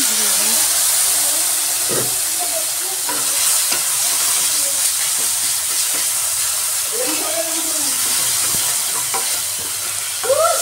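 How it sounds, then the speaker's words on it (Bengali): Tomatoes fry with salt in a pan, giving a loud, steady sizzle and hiss throughout with occasional stirring scrapes and clinks close by. "লবণটা দিয়ে একটু ভেজে নিয়ে ঢেকে দিচ্ছি যাতে টমেটোটা গলে যায়।"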